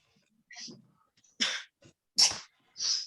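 A quick, sharp sneeze bursts out among a few short breathy sounds in an otherwise quiet room.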